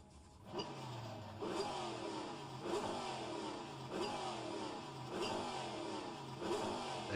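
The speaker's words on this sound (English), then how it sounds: "There's some engine noise for you, Mark." A Trans Am race car engine roars around Bathurst in a racing video game, revving up and easing off through repeated gear shifts at a steady pulsing rhythm, moderately loud and sustained.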